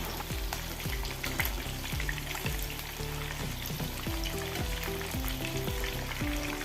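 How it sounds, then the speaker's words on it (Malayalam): Chicken fries in a pan with a steady, close hiss and crackle of oil throughout, over a low, repeating tonal pattern and with no one speaking. "ചിക്കൻ പൊരിക്കുന്നതിൻ്റെ നല്ല മണം വരുന്നുണ്ട്"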